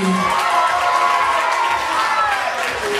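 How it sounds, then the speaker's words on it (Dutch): An audience in a hall claps and cheers at a playback show prize ceremony in a steady, dense wash of applause, with voices shouting in the crowd throughout. "het applaus kan wel een beetje harder, jongens, uit de zaal"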